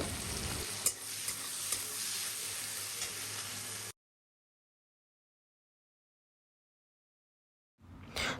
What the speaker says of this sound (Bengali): এরপর আবার ওই তেলে আমি উচ্ছেটাকে ভালো করে ভেজে নেব বেশ লাল লাল করে ভেজে নিতে হবে